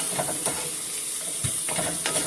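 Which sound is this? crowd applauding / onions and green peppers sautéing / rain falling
onions and green peppers sautéing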